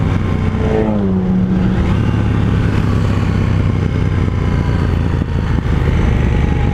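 A KTM 790 Duke motorcycle engine revs up in a quick rising sweep, then settles into a loud, close, rough running note with irregular exhaust crackles scattered through it.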